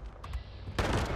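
Gunfire in Fallout 76: after a brief quiet stretch, a sudden loud burst of shots erupts close and continues to the end.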